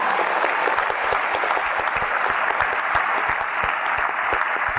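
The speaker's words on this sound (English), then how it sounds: "Everyone clap and chat." A crowd of people claps continuously in a dense, even patter, with a few sharper individual claps standing out. No one speaks over it.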